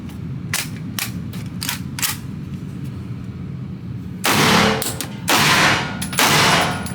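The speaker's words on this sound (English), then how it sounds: "We're going to try it out, run a few rounds," Biofire smart handgun firing rounds, a series of sharp shots, first several quieter reports in quick irregular succession, then a few louder, closer blasts with ringing decay.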